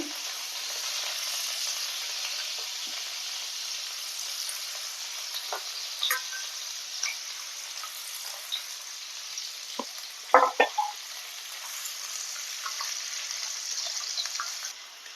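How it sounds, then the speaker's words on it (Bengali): Finely chopped onion sizzles steadily in hot oil tempered with a bay leaf and whole garam masala spices, cooking over a low flame for kaju masala, with occasional clinks and stirring taps from a utensil against the pan. "ফোড়নটা একটু হালকা ভাজা হয়ে গেলে দিয়ে দেবো ছোট ছোট করে কেটে নেওয়া পেঁয়াজটা"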